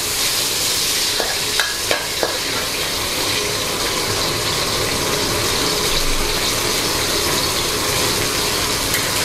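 Fermented soybean paste stir-fried in a hot pan for fried tilapia with ginger, a steady sizzle with scraping, clinking spatula strokes, a few sharper clicks early on, with no voices.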